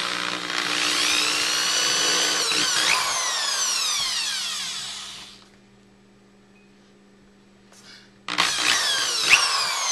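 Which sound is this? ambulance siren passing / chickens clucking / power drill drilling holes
power drill drilling holes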